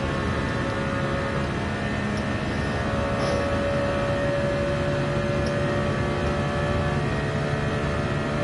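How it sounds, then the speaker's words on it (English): A turbocharged car engine in Gran Turismo 7 holds a steady, loud, continuous drone with a sustained tonal hum and only slight changes in pitch throughout. "Nice turbo, nice."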